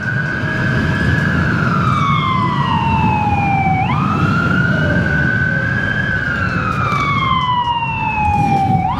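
A wailing ambulance siren in traffic sweeps steadily up and down over constant road rumble, heard from a vehicle keeping pace, loud and close, with no voices.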